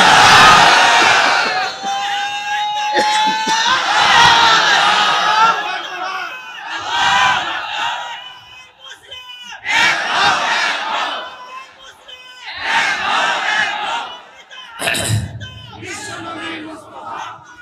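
At an Islamic sermon in Dhaka, a large crowd roars back in unison in repeated waves of loud collective shouting, the sustained surges of voices rising and falling across the gathering.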